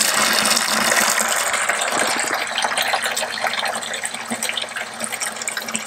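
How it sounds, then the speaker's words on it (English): Water gushes from a reverse osmosis line into a bucket, a loud continuous splashing fill that softens slightly as the level rises, with no speech. "So as this bucket fills up"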